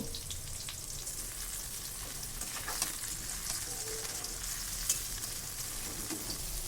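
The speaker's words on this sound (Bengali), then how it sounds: "তো বেগুনের ভিতরে আমি ডিমটা দিয়ে দিয়েছি এখন আমি বেগুনটা লাল করে ভেজে নিব" Eggplant stuffed with egg frying in oil, a steady, moderately loud sizzle with soft crackling throughout and a couple of brief sharp pops; no talking.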